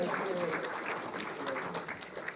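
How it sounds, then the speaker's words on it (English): Audience at an awards ceremony in New Delhi applauds, a dense steady round of clapping from a crowd that continues throughout, fairly close and full. "A huge round of applause."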